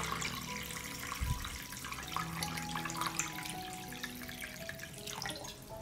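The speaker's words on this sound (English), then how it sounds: "I pour lukewarm water into the pot up to the height of the lid" Lukewarm water pouring into a pot holding jars, a continuous splashing, trickling stream at close range with a brief bump of the pot near the start.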